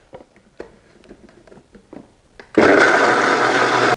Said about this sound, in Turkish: Blenderımın kapağını kapatıyorum ve tekrardan çekiyorum